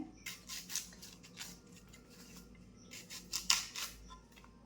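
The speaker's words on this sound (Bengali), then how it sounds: "পেঁয়াজটাকে একটু কেটে নেই" An onion is being cut with a knife at home in a kitchen, giving faint, intermittent crisp slicing ticks spread across several seconds, with a quieter steady background and no talk.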